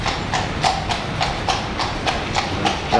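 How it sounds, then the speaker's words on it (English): A horse's hooves clip-clop in an even, unhurried rhythm, each hoof strike distinct and close, over a constant rolling background rumble. "You can hear the clip of the horse, clip top"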